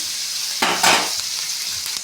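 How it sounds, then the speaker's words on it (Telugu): Curry leaves and salt frying in a pan, a steady sizzle throughout with a louder burst of crackling as more ingredients hit the hot oil partway through. "ఇవన్నీ వేసుకొని కాస్త వేసి వేగనిద్దాం"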